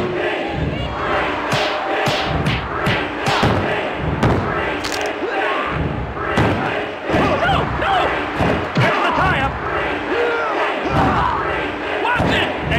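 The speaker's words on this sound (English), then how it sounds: "This crowd is going berserk." A wrestling arena crowd in the WWF Attitude video game roars continuously, with heavy slams and thuds and shouting commentary over the din.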